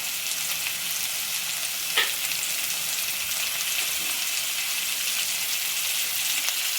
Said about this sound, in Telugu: ఇప్పుడు వెజిటేబుల్స్ కొంచెం వేగినాయండి. ఈ టైంలో మనం టమాటాలు వేసుకుందాం.